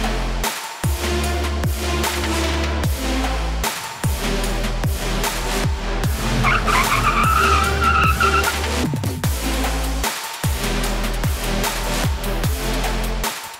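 A 2023 Hyundai Sonata brakes hard over and over in a brake test, tires squealing and skidding in rhythmic pulses under a strong engine roar.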